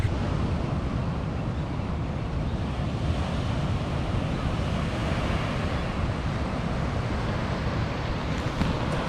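Ocean waves wash onto a beach on the east coast of Bali in a continuous, fairly loud roar of surf with wind rumble across the microphone.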